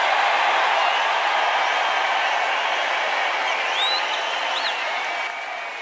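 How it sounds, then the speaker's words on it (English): A large political rally crowd roars and applauds wildly, a dense, loud wash of clapping and cheering with a few whistles that carries on and slowly eases off. "And as you heard, the crowd went wild"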